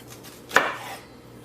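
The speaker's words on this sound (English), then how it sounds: "You just have to cut the sugar snap in half" A single crisp knife chop slicing a sugar snap pea in half on a cutting board, one sharp close thud with no one talking.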